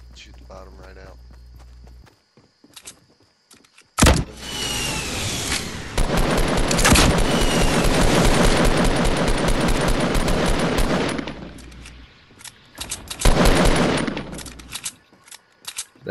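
Rapid bursts of automatic gunfire in Fortnite rattle loudly and densely while a base is shot up, with footsteps and sharp separate shots before and after, and people talking through it.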